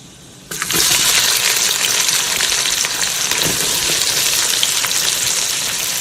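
Onions dropped into hot oil with cinnamon, cloves and cardamom for paneer biryani, a sudden loud burst of sizzling that stays as a dense, steady hiss.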